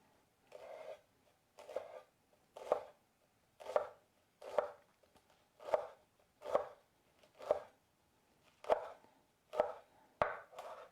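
A knife slicing through a rolled bundle of fresh basil on a cutting board, about a dozen crisp, evenly spaced chops close up, with quiet gaps between strokes and no talking.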